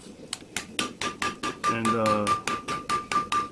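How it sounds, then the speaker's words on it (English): A dog head hammer made from an old rock chisel strikes a knife handle being forged for a herb chopper, ringing in a steady run of about fourteen close, sharp metallic blows, with a voice speaking briefly over the middle. "This is a dog head hammer that I had made from an old rock chisel."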